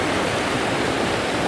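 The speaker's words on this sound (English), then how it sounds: "there's a bit of a waterfall" Steady, loud rushing of a waterfall swollen by heavy rain, falling among trees in a landscape setting, a continuous broadband roar with no pauses or voices.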